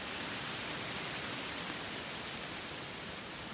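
Rain falling steadily on the Appalachian Trail, a dense continuous hiss with no pauses and no voices.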